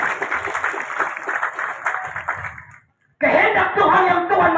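Loud applause from a crowd at an open-air evening revival gathering on Moru field, mixed with voices and some chuckling, stopping briefly before a second burst of clapping resumes just as strongly.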